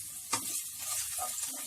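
Finely chopped ginger and garlic sauté in a hot pan with a continuous close hiss and sizzle, marked by a sharp spatula scrape near the start and soft clicks as they are stirred.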